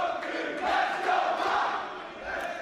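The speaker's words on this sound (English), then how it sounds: "The crowd is alive in Miami, Lenny" A wrestling arena crowd in Miami roars and cheers in a steady, dense wall of sound that swells and eases slightly, with no one speaking clearly over it.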